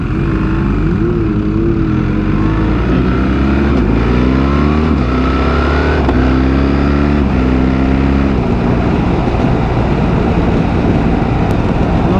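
A BMW R1300GS motorcycle is ridden on the road, its engine droning loud and close. The pitch climbs and drops through gear changes under steady wind rush, with no talking.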